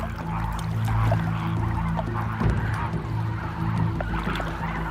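A flock of flamingos honks and gabbles in a steady, overlapping chorus from nearby birds, with soft splashing water mixed in.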